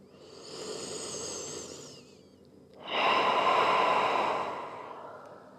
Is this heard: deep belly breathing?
yes